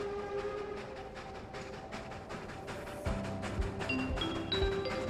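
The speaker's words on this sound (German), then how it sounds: "Keine Ahnung, was das für ein Zug ist." A train in the Trainstation Simulator video game rumbles and clatters along rhythmically, then heavier wheel thumps and short whistle-like tones join at moderate volume.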